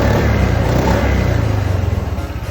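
A Honda Stylo scooter with its stock exhaust, the exhaust angle altered, idles and revs close by in a loud, steady drone with a fluttering pulse that slows slightly toward the end.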